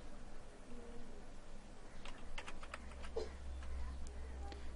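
Fingers tap out a card code on a computer keyboard, a quick run of light clicks in the middle over a low steady hum, with no talking.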